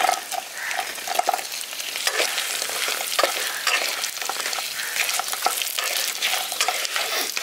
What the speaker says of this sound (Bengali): এবার আমি চিকেনের পকোড়াগুলো দিয়ে দিচ্ছি।